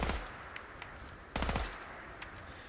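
An automatic gun fires in the video game Fallout 4, sharp bursts of rapid shots at the start and again midway, loud and close with quieter single pops between.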